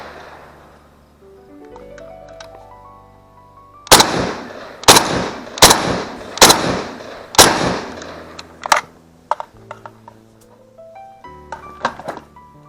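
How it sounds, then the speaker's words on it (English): Gunshots at a shooting range, fired while moving: a run of about five loud, sharp reports in quick succession, then a few lighter clicks and clanks as the shooter handles the gun, with music underneath. "What I wanted to do here was a little bit on the move kind of shooting."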